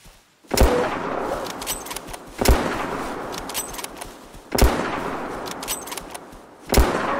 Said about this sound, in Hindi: क्या शॉट लगा रहे थे यार